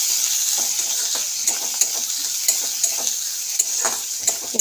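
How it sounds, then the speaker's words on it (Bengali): Sliced onions frying in oil left over from frying fish, a bright continuous sizzle close up with regular spatula stirs and light clicks against the pan, no voices. "পেঁয়াজটাকে একটু ভেজে নিতে হবে।"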